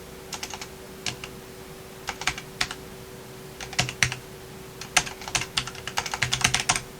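Someone typing on a computer keyboard, heard alone in a quiet room: bursts of crisp, close key clicks in uneven runs that grow busier toward the end.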